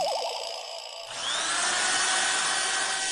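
A power drill whirs up and runs steadily at full speed during a late-night renovation in a housing complex, loud and continuous after a brief lower-pitched wobble at the start.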